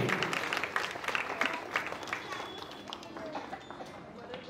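An audience applauds at a Mangala Gauri event, with dense, fairly loud clapping that starts strong and gradually thins and softens, under some speech.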